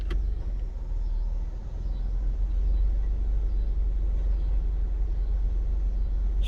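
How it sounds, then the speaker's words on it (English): A 2002 Honda Civic LX with a rebuilt transmission idles in neutral, giving a steady close rumble with a faint, even rattle woven through the engine drone, with no voices. "Slight clattering."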